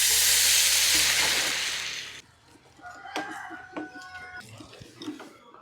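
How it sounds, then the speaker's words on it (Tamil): Beetroot paste frying lightly in oil in a pan, a loud hiss for about two seconds that then drops to faint sizzling, with scattered clinks and a rooster crowing nearby. "ஆயில் பீட்ரூட்டோட பச்சை வாசனை போகிறதுக்கு இதை நம்ம லைட்டாக போட்டு வேக வச்சு எடுக்கணும்"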